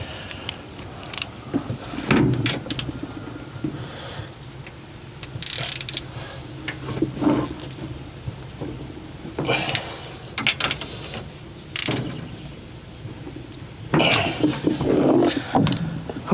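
A ratchet wrench hand-torquing a bolt on a John Deere 4045T diesel engine during a thermostat replacement on an Atlas Copco 375 CFM air compressor, giving irregular clicking and metallic bursts close up, with faint background noise.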